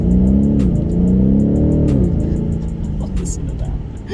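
BMW M850i xDrive accelerating hard, its engine note climbing through gear changes in a muted, refined surge heard from inside the cabin, with a voice talking faintly over it.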